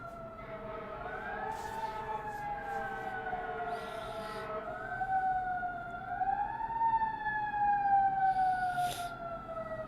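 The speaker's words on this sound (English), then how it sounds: "We have a siren outside somewhere." A distant emergency siren wails, rising and falling slowly and steadily, over a low hum of background traffic.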